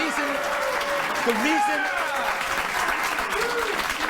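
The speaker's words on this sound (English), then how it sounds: "I knew I would get applause" Studio audience applause on a late-night comedy talk show, a steady broadband clatter of clapping with whoops and voices mixed in throughout.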